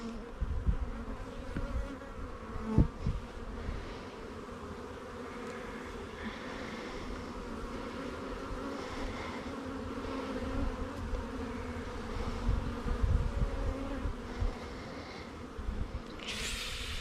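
Dense, steady buzzing of many honeybees fills the air as a nuc is installed and brood frames are moved into a hive, with a few soft knocks and no talk.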